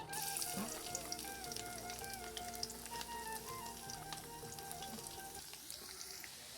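Chopped garlic dropped into hot oil crackles and sizzles close by at moderate volume, with light popping and occasional stirring over a steady hiss.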